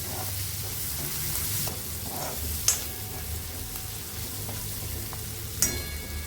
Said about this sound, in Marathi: आता आपण ही कंटोळी टाकूया याच्यात, कापलीत ती, आणि चांगलं ढवळून घेऊया।